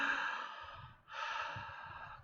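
One person draws a breath in through the mouth, an airy sigh-like inhale, pauses briefly, then takes a second audible breath, close and fairly quiet with no speech.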